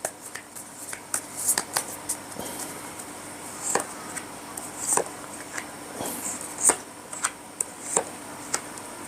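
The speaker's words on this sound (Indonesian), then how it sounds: "Saya akan mengambil beberapa kartu awalan." Tarot cards being shuffled and drawn by hand, giving soft papery riffles and sharp flicks and taps at irregular intervals, close and clear over a quiet room with no talk.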